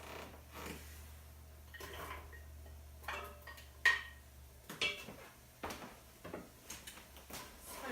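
Lentil soup with carrots being stirred in a pot, giving soft intermittent scrapes and light clinks of the utensil against the pot, close and fairly quiet with no talking.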